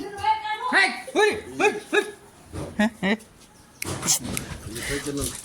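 A Labrador dog whimpers and yelps several times in a rising, whining pattern nearby, followed by a few short barks and people talking.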